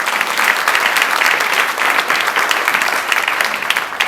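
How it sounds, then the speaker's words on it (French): A church congregation bursts into loud, sustained applause during a Sunday sermon, dense clapping filling the room evenly with no talk over it. "On va entendre un grand amen, et même un applaudissement pour le Seigneur ce matin."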